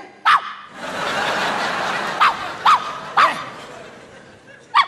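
A dog barks in five sharp, separate bursts, one early and then four spread across the rest, close and loud over a steady background hiss, during a Vietnamese New Year's Eve comedy sketch.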